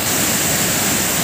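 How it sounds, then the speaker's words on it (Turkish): Steady, full roar of the large Samandere waterfall in Düzce, Turkey, a dense continuous rush of falling water heard up close with no voices. "burada bir oluşmuş olan büyük şelaleyi görüyoruz"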